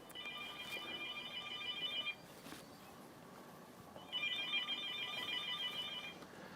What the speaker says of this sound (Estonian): Nüüd aga kuuleme siin telefonikõnet.